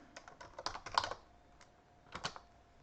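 Keystrokes on a computer keyboard while working in a terminal during a networking lab, with two close bursts of quick clicking separated by a short pause.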